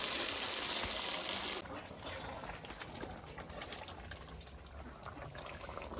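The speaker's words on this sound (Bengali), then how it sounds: "মাংসের মধ্যে জল পড়ল।" Water pours into chicken and potato curry cooking in a village kitchen, a faint splashing rush for the first second and a half, then settling into a quiet simmering trickle.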